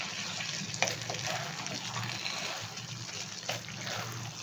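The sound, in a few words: stirring spaghetti with cream in a pan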